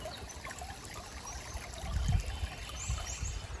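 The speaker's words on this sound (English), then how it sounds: "I never tire of the simple pleasures of a creek." Gentle creek water in the Uwharrie woods trickles and babbles quietly and continuously, with faint bird calls in the distance.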